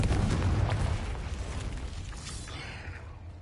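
A fire-blast spell goes off in a Harry Potter-style video game, one heavy booming explosion with a deep rumble that swells at the start and slowly fades into a crackling tail, with no voices.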